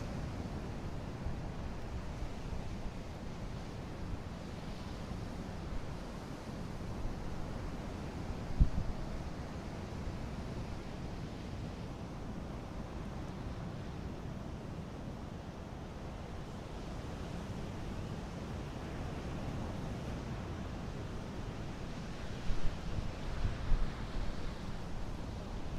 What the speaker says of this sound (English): There's the sound of the waves.